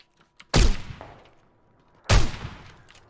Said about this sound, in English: Oh, he shot me!